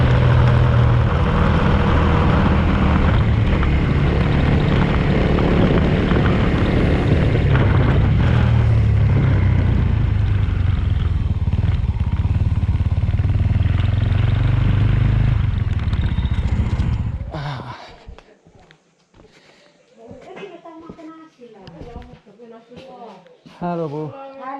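A motorcycle rides a coastal road in Alor, Indonesia, its engine roar heavily buffeted by wind for most of the stretch before cutting out, after which voices are heard talking nearby.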